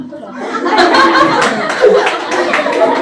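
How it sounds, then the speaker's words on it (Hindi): Students in a tenth-grade science class clap together in a short, loud burst of applause close by, mixed with laughter and chatter. "तालियां"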